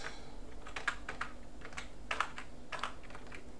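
Rapid typing on an English-layout computer keyboard, a steady run of close clicky keystrokes with a few louder taps, with no voices.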